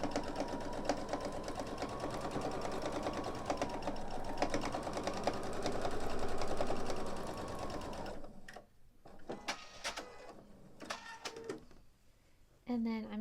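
A sewing machine stitches a long quilt-as-you-go seam, running steadily and fairly loud for about eight seconds before stopping, followed by scattered handling clicks and fabric rustle.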